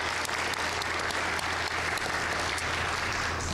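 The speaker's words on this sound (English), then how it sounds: "I want an extra round of applause for coming so far to join us." Sustained audience applause at a talk event, dense steady clapping from a crowd at an even level throughout, with no voices standing out.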